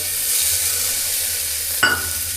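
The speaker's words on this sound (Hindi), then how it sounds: "अब इसके अंदर टमाटर डाल लेता हूँ और इसको भी फ्राई कर लेता हूँ मैं।" Tomatoes fry with onions in hot oil in a home kitchen, a steady close sizzle with light stirring, then a sharp utensil knock near the end.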